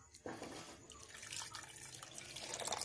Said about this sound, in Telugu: దీంట్లో కాసిన నీళ్ళు పోసుకొని